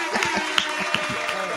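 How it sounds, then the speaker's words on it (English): A played applause sound effect at a radio show, a dense patter of many hands clapping at moderate loudness, running continuously with crowd noise. "We gotta get the whole applause in there."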